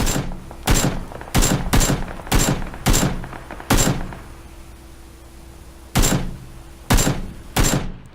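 Sharp gunshots crack out in a PUBG gunfight, a fast cluster of single shots followed by a pause with a faint steady hum, then three more spaced shots, loud and close.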